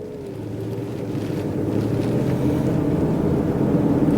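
A car engine drones and rises steadily in pitch and loudness as the car accelerates from a stop on a test drive, heard from inside the cabin with a continuous low rumble.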